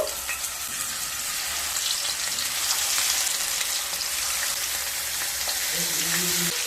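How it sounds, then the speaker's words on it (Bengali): Pieces of marinated katla fish fry in hot oil with a loud, dense, crackling sizzle that holds steady throughout, heard up close with no talking. "এবার ম্যারিনেট করা মাছটা দিয়ে দেব"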